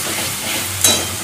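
Spice masala being stir-fried in a pan before chicken is added, with a close, steady sizzle and hiss and a brief stirring scrape partway through.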